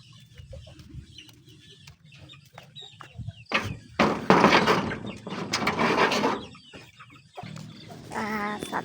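Farm chickens cluck and squawk intermittently as they are herded into a wooden coop at dusk, with scattered knocks and rustling around them and louder bursts of clucking in the middle, no talk.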